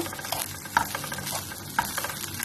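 Onions and meat frying in a pan, a steady soft sizzle with stirring scrapes and two sharper utensil clinks, heard close and fairly quiet with no talk.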